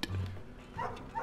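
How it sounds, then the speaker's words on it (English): A dog in the video game Night In The Woods gives a short, close bark followed by a couple of soft whimpering yips, with faint background game ambience. "Doggy!"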